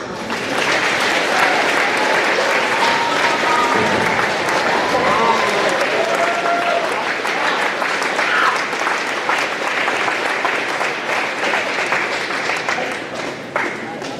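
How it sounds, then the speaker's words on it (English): Standing ovation at a community school graduation, loud sustained applause from a large crowd filling the hall, with faint cheers and voices mixed into the steady clapping throughout. "Standing ovation for these girls."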